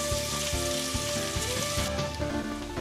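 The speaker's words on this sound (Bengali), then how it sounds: "হালকা ব্রাউন করে ভেজে নেব পেঁয়াজগুলো" Chopped onions sizzle and fry in hot oil for a jackfruit and shrimp curry, a steady crackling hiss with soft rhythmic stirring thumps underneath.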